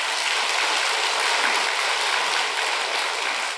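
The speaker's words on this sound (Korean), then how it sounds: "일단 박수 좀 한번 쳐줘." A church congregation applauds during a Sunday sermon: dense, continuous clapping from many hands fills the space at an even level, with no pauses.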